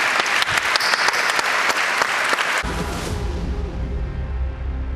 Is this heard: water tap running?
no